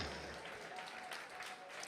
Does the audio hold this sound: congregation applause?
yes